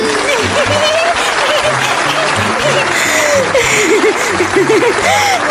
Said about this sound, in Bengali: মা দেখো, সবাই কত হাততালি দিচ্ছে।